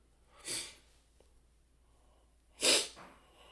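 Two sharp sniffly bursts through the nose, one early and a louder one near the end, separated by near silence.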